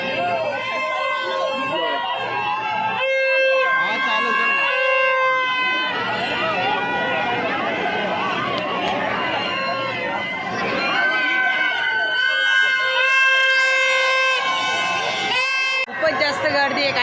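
Dense crowd at a Maha Shivratri temple fair at Khidkaleshwar Mahadev temple, a constant loud babble of many voices with whistle-like tones and horns cutting through over the whole stretch.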